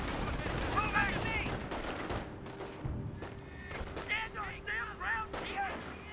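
Rifle and machine-gun fire rattle through a Company of Heroes 1 battle in bursts of sharp cracks. Some heavier blasts land in between, and voices talk over the fighting.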